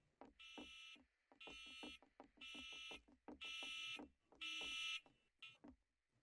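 An alarm rings in a Garry's Mod horror map video game, sounding as five or six loud, evenly spaced bursts with rapid ticking pulses between them.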